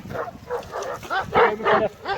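Young Kangal dogs in a garden barking at a stranger dog, about six loud, close barks in a quick, uneven run, the last few the strongest.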